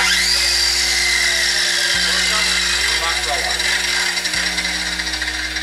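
A radial arm saw spins with a steady, loud mechanical whine and a low motor hum that runs throughout, dipping briefly twice. A voice speaks over it.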